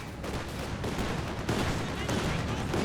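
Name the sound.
gunfire from a half-track in Company of Heroes video game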